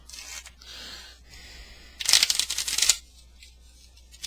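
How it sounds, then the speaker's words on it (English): A deck of playing cards is given a false shuffle during a card trick, with a soft riffling rustle early on and then a louder, crisp burst of cards riffling together for about a second, close and without talk. "You can do some false shuffles."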